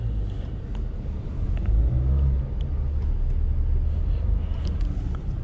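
A Toyota Yaris 1.3 drives in traffic, its low engine hum and road rumble swelling briefly mid-clip, with the air conditioning running inside the cabin.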